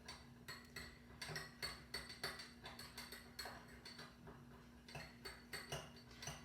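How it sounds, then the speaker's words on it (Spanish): A spoon stirs salt into a mixture during a solubility experiment, giving a steady run of quiet clinks and scrapes against a glass container, close and repetitive with no talking. "Vamos a tratar de hacer la mezcla mecánica, revolviendo."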